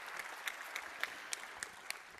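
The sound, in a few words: applause from audience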